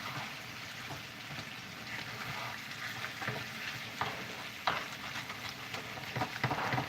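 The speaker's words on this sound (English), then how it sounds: "I'm actually just going to pull that stuff that's sticking right off the pan and use it" A wooden spoon scrapes stuck flour off a frying pan while making Guinness stew, with steady sizzling frying underneath and repeated sharp scraping strokes close by.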